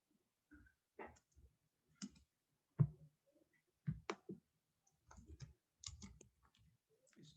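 Computer mouse clicking during a software tutorial: sparse, quiet clicks and small taps spaced irregularly, about a dozen in all, set against near silence.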